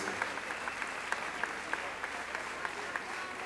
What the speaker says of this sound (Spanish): Quiero despedir entonces a María Evelio, despedirlos con un gran aplauso cariñoso de todos ustedes.